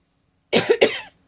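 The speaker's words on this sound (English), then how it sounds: "Sorry, I don't mean to cough at you." A single close, loud cough breaking out in two quick harsh bursts, then silence.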